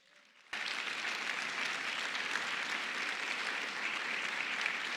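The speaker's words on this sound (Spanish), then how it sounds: "denle un aplauso a Cristo" A church congregation at a Sunday service breaks into sudden, sustained applause after a moment of quiet, a steady wash of many hands clapping that continues evenly to the end.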